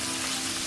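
Raw shell-on shrimp frying in a pan, a steady, close hiss of sizzling oil held throughout a brief moment.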